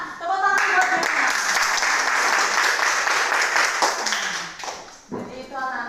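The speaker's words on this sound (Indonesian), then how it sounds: "Tepuk tangan buat Diana." A group claps in steady applause for several seconds, loud and close. A voice speaks briefly before and after.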